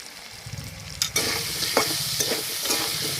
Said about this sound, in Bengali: নুন হলুদ দিয়ে আলুটাকে আমি লাল লাল করে ভেজে নেব